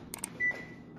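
An oven timer is set while cooking ribs at 400 degrees, giving a few quick short electronic beeps followed by one longer steady tone, close and fairly quiet, with no talk.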